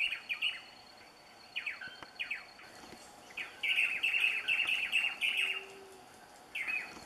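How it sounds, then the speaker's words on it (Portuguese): An insectivorous antshrike (choca) in the Atlantic Forest sings repeated chirping phrases over a soft forest background. The calls come in clusters of bright notes, moderately near, with no talking. "passarinho insetívoro da família das chocas. Ouça só o canto dela."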